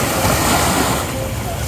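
Ocean waves wash in at the beach, a brief loud rushing surge of surf with wind buffeting the microphone, fading slightly at the end.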